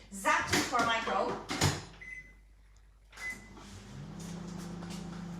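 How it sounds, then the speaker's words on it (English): Kitchen microwave oven heating gelatin for a no-bake strawberry cheesecake: the door shuts with a thud and a short beep sounds, then the oven starts a low, steady hum that runs on alone. "We're going to put it into the microwave for about 30 seconds."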